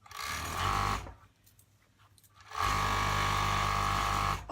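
A sewing machine stitches along the hem of a boy's shirt in two sustained runs of loud, steady motor whir and needle chatter, separated by a short quiet pause.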